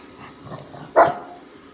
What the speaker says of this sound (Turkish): Havlar mı düşünüyorduk? Havlıyor.